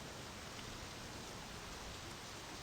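Steady rain falls in the driving-and-building game My Summer Car, an even hiss of drops on surfaces that holds unchanged throughout, with no voices.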